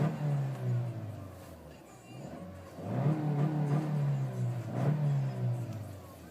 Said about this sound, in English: But let me show you a quick rev.